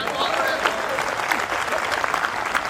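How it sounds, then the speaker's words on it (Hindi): An audience at a Hindi comic poetry gathering in Sonipat, Haryana, breaks into continuous applause, with thick, even clapping and faint voices mixed into the crowd noise. "एक बार मेरे सम्मान में भी ताली बजाइए"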